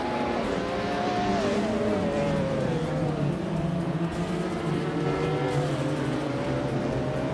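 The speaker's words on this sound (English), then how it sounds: "The track's tight corners seem to favor the older Ferrari F40s and the Nissan 300Z X-Turbo IMSA, keeping them in the top spots." Race cars, among them Ferrari F40s and a Nissan 300ZX Turbo IMSA, drone steadily around a tight track. Overlapping engine notes rise and fall as the cars shift and accelerate, loud and continuous throughout.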